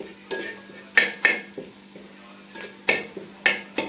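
Onion fried with roasted spice powder in a pan for chicken curry, stirred in a series of sharp metallic spoon scrapes and clinks over a faint sizzle, spaced irregularly and close, with no talking.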